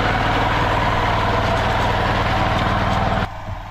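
A tractor engine works a rice field in Gorai village near Mumbai, a loud, steady, low diesel rumble held close and constant, dropping abruptly in level just before the end.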